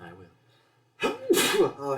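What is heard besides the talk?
sneeze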